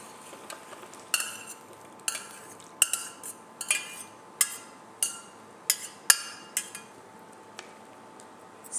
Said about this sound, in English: And then I shall add this,